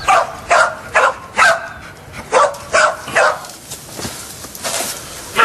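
A cadaver search dog barks in a steady series of sharp, loud, close barks, about a dozen in a row, gradually softening toward the end.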